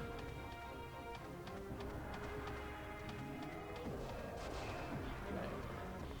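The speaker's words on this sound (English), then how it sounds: "Taste this rocket launcher" Rapid bursts of gunfire and explosive blasts from a rocket launcher in a shooter video game, dense and continuous, with a voice talking over the action.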